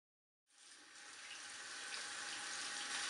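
Steady broadband rush of water running from a tap starts abruptly after a brief silence and keeps flowing evenly, like washing a dirt- and water-resistant rollable keyboard with soap and water at a sink.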